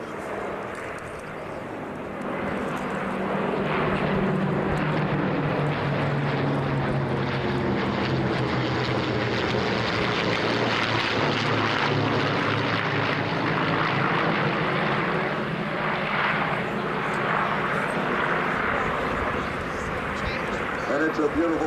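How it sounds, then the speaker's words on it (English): B-24 and B-17 bombers with P-51 fighters pass low over an airshow flight line, a loud, sustained propeller engine drone that swells and holds, with an announcer talking over it. "We're going to give you another little flyover right down the flight line here."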